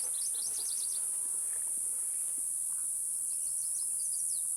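A constant high-pitched cicada drone fills the background in Utah, with scattered bird chirps and insect calls over it, steady throughout.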